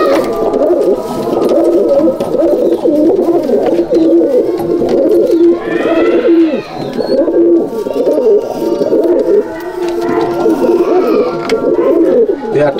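Pigeons coo continuously in a breeder's loft, a dense overlapping chorus of low throaty calls with wing flutters, loud and close throughout.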